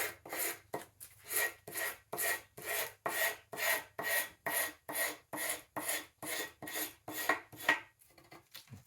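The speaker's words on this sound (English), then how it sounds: "I'll lightly scrape, remove the old adhesive that held it down to this footboard in the first place" A scraper rasps old adhesive off a wooden drawer part that once sat on a footboard, about sixteen even, rhythmic strokes close up with short pauses between them.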